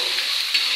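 Fried rice ingredients, garlic and chili, sizzle loudly and continuously in a pan while being stirred, a dense close hiss with a slight scrape, no speech.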